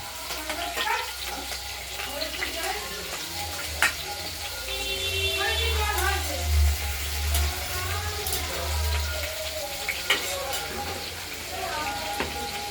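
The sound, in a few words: cut potatoes frying in oil with spices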